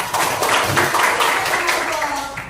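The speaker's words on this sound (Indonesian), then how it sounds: "Oke, tepuk tangan teman-teman" Classmates clapping hands in a school classroom, a short burst of scattered, moderately loud applause with voices murmuring underneath.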